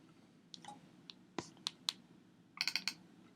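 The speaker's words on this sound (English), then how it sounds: "when I double click on that" Sharp, quiet computer mouse clicks over a low background hum: scattered single clicks, then a quick cluster of close-spaced clicks near the end, as when double-clicking to open a file.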